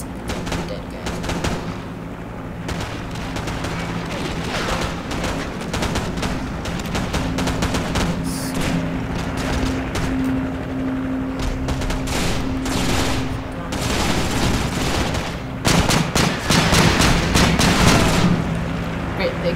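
Gunfire in the video game Call of Duty 4 sounds as repeated sharp bursts and scattered shots over a steady din of game noise, growing denser and louder toward the end.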